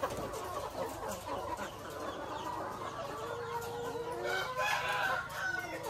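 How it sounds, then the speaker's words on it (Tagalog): Hens at an egg layer farm with cages cluck and squawk continuously in a dense, overlapping chorus, with a rooster-like crow rising near the end; no talk. "Tsaka ito naman yung bago nating manok."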